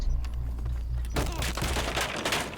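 Rapid gunfire in Rainbow Six Siege crackles in a dense, loud burst of shots partway through, over a low steady background hum, with voices chatting.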